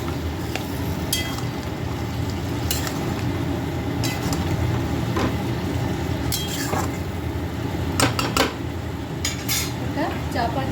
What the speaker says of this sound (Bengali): মশলার সাথে ভালো করে মাংসটা কষিয়ে নেব।